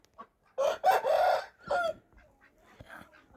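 Chickens let out of their coop in winter cluck and squawk nearby in a few short bursts, then quieter scattered clucks, with a faint voice in the background.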